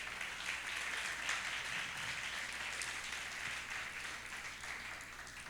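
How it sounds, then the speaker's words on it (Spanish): A church congregation applauding during a Sunday communion service, a steady, dense wash of clapping that holds evenly throughout at moderate distance with no voices over it. "¿Cuánto le dan un aplauso al Señor?"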